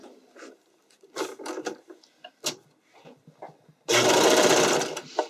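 A sewing machine stitches fabric for a skating dress, starting with scattered clicks and fabric handling, then running in a loud continuous whirring burst near the end.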